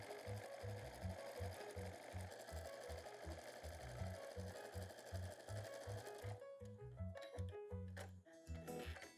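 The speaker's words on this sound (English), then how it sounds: "I'm going to stitch 1/4 of an inch the two sections together." A sewing machine runs steadily, stitching a quarter-inch seam that joins two fabric panels of a drawstring bag, with a fast even needle rhythm close up and a brief pause near the end before it resumes.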